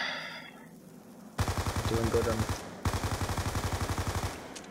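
Rapid automatic gunfire from a video game rings out in two loud bursts of steady, evenly spaced shots, separated by a short gap, after a quieter opening; someone talks briefly over the shooting.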